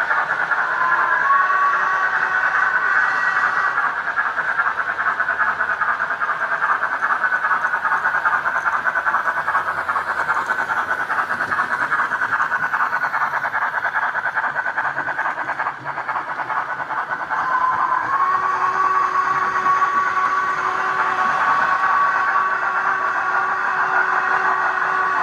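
A model Princess Coronation class locomotive fitted with a power base runs along track, a steady close motor whir and wheel hum, continuous and even throughout with no talk.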